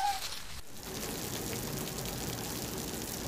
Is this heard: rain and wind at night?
yes